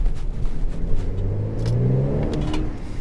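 Mercedes C43 AMG with valvetronic performance exhaust revving, a deep rumbling engine note that swells and climbs in pitch mid-way, loud and close, with a few sharp pops and crackles.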